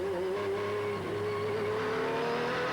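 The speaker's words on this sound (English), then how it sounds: "Rattles it down that sequential gearbox" Dodge Viper GT race car engine held at a steady high pitch with a slight dip as the sequential gearbox shifts down, loud and close with a continuous roar.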